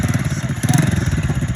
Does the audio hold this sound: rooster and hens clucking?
no